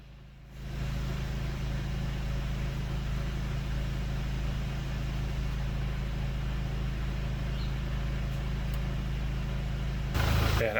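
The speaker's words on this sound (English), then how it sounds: "For those interested in the clutch chatter, here's what I can hear." Inside a VW GTI with a Stage 3 clutch and the window down, a steady low idle drone carries a constant rattling hum, swelling slightly louder near the end.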